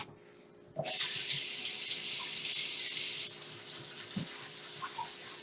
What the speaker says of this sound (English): so now we're adding some water to this